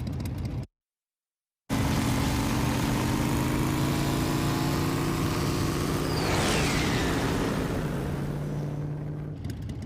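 Steady motorcycle engine drone running continuously at a constant pitch, loud and close, with a brief gap of silence near the start and a slight pitch shift later, no voices.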